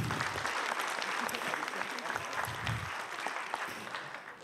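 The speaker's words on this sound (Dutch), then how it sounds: "Groot applaus, Pim en Rijn." An audience at a children's award event applauds, a dense burst of clapping that holds steady for a few seconds and then tapers off.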